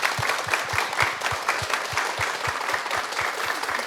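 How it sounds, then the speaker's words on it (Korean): Studio audience on a Korean morning talk show applauds to welcome a guest, a steady wash of clapping with a regular rhythmic beat of synchronized claps running through it. "큰 박수 어서 오십시오"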